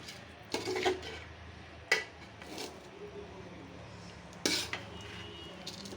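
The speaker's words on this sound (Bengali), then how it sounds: "চাউলটা ভেজে নিতেছি।" Polao rice fried slowly and stirred in a pan, a few soft scrapes and clinks of the spoon against the cookware spaced apart over a quiet, steady kitchen background.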